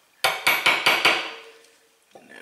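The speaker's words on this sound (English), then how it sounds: "Use a little hammer." Five sharp metallic hammer taps in quick succession, a small hammer driving a socket onto a Shimano freewheel hub, close and loud, followed by a quieter clatter.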